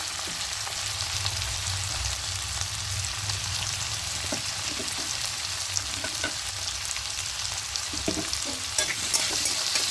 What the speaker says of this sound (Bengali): একটু ভালো করে মিশিয়ে নেবো